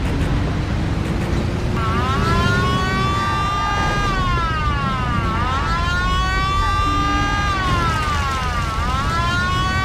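Police car siren in the video game Mafia: The City of Lost Heaven, a loud, close wailing tone that rises and falls in long repeated sweeps over steady engine and traffic rumble, with no talking.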